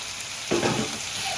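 Beans tipped into sizzling gravy in a pan and stirred, a brief clatter and hiss rising sharply midway over a steady frying background, with no voices.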